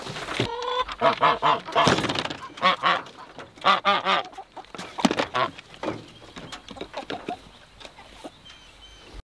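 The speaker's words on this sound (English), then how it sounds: "Look at those turkeys. They're already acting like they're big." A run of loud, rapid bird calls, honking and gobbling in clustered bursts that taper off into quieter scattered calls, close by.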